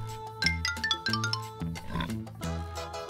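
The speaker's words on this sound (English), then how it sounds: "Pig." A pig oinks over a bright tinkling musical melody, the grunting sounds mixed into the cheerful tune.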